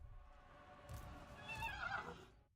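A horse neighs loudly in Total War: Warhammer 3, a rising whinny with harmonic peaks near the end, over a busy bed of battle noise and hoofbeat-like clatter.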